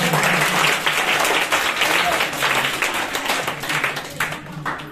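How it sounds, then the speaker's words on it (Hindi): Studio audience on a quiz show applauding steadily for several seconds, a dense wash of clapping that gradually tapers off toward the end, with a voice heard beneath it. "जोरदार तालियां बजाइए।"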